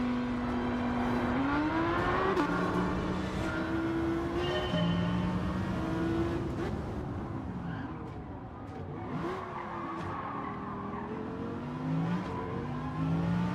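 A powerful rear-wheel-drive race car in a racing game revs hard, its engine note climbing and dropping through gear changes while tires squeal and skid, loud and continuous throughout.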